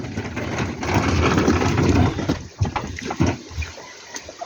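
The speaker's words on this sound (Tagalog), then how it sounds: "Hangin na may kasamang ulan." Strong typhoon wind gusting with rain, a steady roaring wash that fades into uneven bursts and rattles outdoors.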